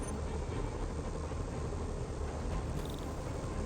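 Helicopters fly in the Spider-Man Remastered video game, a dense continuous rotor and engine roar at steady loudness throughout, with no voices over it.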